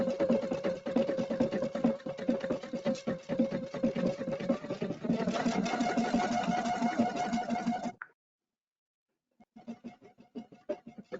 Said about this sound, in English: So I'm gonna start stitching.